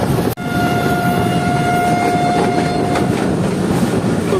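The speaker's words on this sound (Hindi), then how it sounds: "तो 11:40 पर जो है ट्रेन हमारी वो एंटर हो रही है टंडो जाम शहर में।" An express train runs on rails near Tando Jam after leaving Hyderabad, a loud, close, continuous rumble with rhythmic clatter and a steady tonal whine, opened by a sharp thump.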